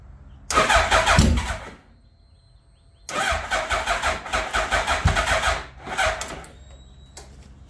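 A 2003 Suzuki Hayabusa motorcycle being repaired cranks and catches in two loud bursts near the microphone, first briefly, then sputtering and revving unevenly for a few seconds before cutting out, with faint voices around it.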